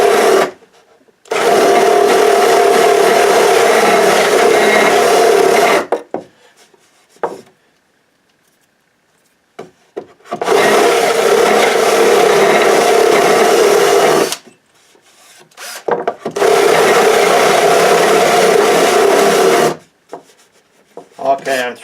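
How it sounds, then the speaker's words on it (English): Three long bursts of loud, steady drill whirring, each several seconds long, separated by short quiet pauses; drilling a hole through wood, no talking. "Hopefully we can drill the other side through here now."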